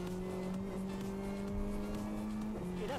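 A Renault racing car on a circuit brakes hard and works down and up through the gears, its engine note sustained and droning with shifting tones and a light squeal of tyres near the end.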